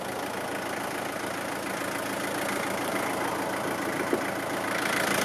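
A 1994 Isuzu Bighorn's 4JG2 turbo diesel engine idles nearby with a steady, rough rattling drone that holds constant throughout, with no talking.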